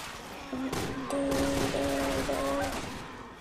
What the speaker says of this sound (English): I need space to shoot.